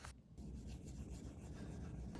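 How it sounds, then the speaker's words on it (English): Wood being cut away from a printmaking block, a short close scraping rub lasting about two seconds, quiet and dry with a brief pause near the start, no talking. "I decided I want to cut away a little bit more from the block"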